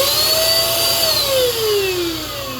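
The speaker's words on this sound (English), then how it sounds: "you can hear the motor go around." A Tasvac cordless 24 volt vacuum motor runs loud and steady with a whining tone that drifts downward as it slows, over a constant buzzing hum.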